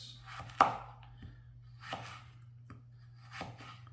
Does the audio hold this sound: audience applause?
no